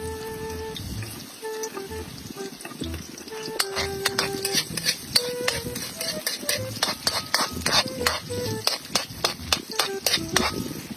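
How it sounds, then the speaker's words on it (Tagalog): Onion and garlic sautéed with black pepper in a cooking pot: steady scraping and bright metallic clinks of a utensil stirring, close and fairly loud, with no talking. "nagisa lang ako dito ng sibuyas at bawang at nilagyan ko na rin ng paminta"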